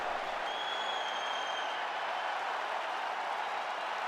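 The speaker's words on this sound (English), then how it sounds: "So the crowd voicing its appreciation after that round." Crowd applauding between rounds of a UFC 5 fight in the EA Sports game, a steady even wash of distant clapping and cheering that holds at a low level throughout.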